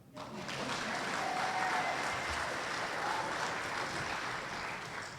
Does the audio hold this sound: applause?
yes